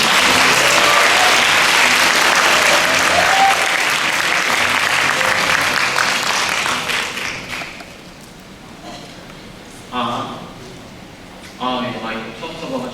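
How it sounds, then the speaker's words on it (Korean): A crowd at a Korean IT presentation event claps loudly for several seconds to welcome the first presenting team, then the applause dies away and a voice begins speaking through a microphone. "첫 번째 발표팀 리밋리스 큰 박수로 맞이해 주시기 바랍니다."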